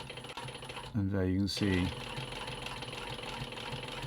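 A post bed sewing machine stitches thin upholstery leather with a steady, even mechanical whir and rapid needle clatter running throughout. Someone speaks briefly over the machine partway through.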